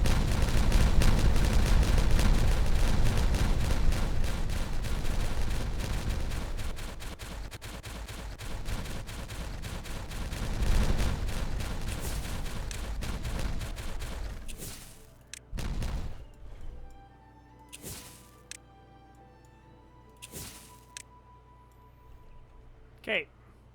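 TNT charges detonating in the city-building game Timberborn, a long, loud roar of blasts over the first fifteen seconds, then several separate sharp explosions spaced apart as the din fades, with someone talking over parts of it.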